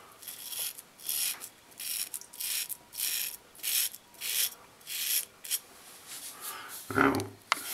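A razor scrapes across lathered stubble with the grain in short, rhythmic rasping strokes, each a brief gritty swipe with small pauses between. The strokes sound close and fairly loud, and no one speaks.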